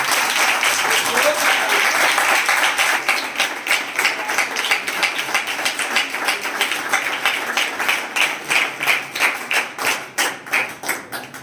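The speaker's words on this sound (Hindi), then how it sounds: "एक जोरदार ताली पवित्र आत्मा के लिए बजाएं।" A church congregation bursts into loud, sustained applause that gradually thins into distinct rhythmic clapping as it tapers off.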